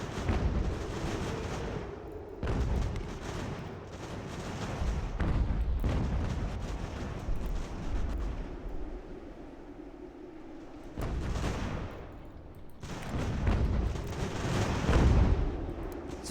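Artillery guns firing in Ultimate General: American Revolution during the Battle of Salem, deep booms recurring in several loud bursts with rumbling between them, distant battle noise underneath.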